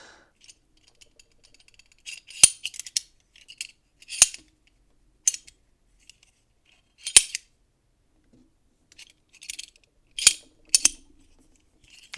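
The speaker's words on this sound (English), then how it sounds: "You can do it just slowly, you know, open it, tip it down, let it slide out and close it." A folding knife opened and closed gives sharp metallic clicks and snaps, about eight of them, spaced irregularly and heard up close against near silence.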